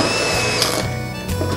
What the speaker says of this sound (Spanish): Miedo a mí esta batidora tan grande